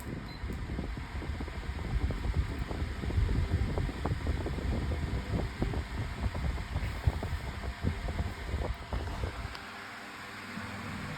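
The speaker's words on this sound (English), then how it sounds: "I might need to oil this fan, but it's running pretty good right now." A 16-inch Optimus pedestal fan runs steadily on high, a dense broadband whoosh with low rumble and faint rattling, fairly close and continuous before easing slightly near the end.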